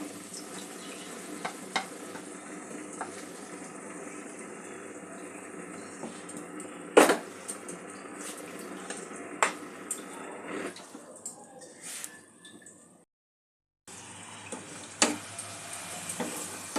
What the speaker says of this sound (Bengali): আলুর সাথে মশলাটা একটু কষিয়ে নেব।